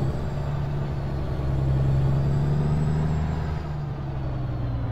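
A truck engine in American Truck Simulator drones steadily and loud, a deep throaty rumble with a constant low tone that holds even for the whole stretch, alone without talk.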